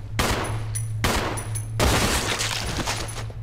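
Gunfire in Resident Evil 0 HD Remaster: three loud bursts of rapid shots in close succession, each cutting off sharply, with a steady low game drone underneath and no talking.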